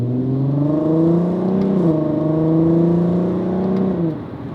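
A VW Golf Mk5 R32 engine revs up through its exhaust. The close, loud note rises, dips briefly and climbs again for a second pull.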